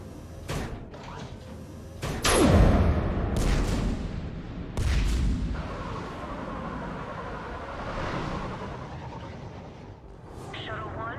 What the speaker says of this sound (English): Have the guns punch a hole in the perimeter